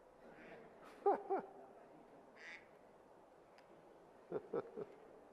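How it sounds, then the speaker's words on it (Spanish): A duck quacks in two short bursts of a few calls each, one early and one near the end, standing out over a faint background hum in an indoor lecture setting. "Es un patito."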